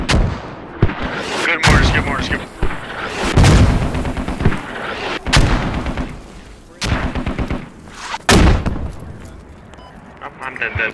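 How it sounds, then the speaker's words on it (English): Mortar rounds and gunfire in a Squad game battle: repeated heavy booms and sharp cracks strike at irregular intervals, some loud and near, with rumbling tails between them, while players talk over the combat. "Good mortars."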